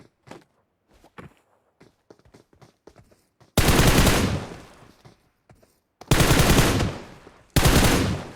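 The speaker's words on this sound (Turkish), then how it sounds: "Herkesi vuruyor." Soft footsteps and light clicks from a video game give way to three loud, sharp bursts of rapid automatic gunfire, each lasting about a second, close and harsh against near silence between them.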